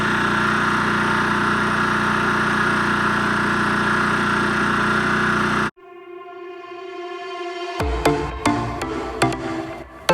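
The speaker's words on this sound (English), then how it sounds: "just testing the generator, running it" A generator engine runs steadily at a loud, constant drone during a test, then cuts off abruptly, leaving a fading ring followed by scattered clunks and knocks nearby.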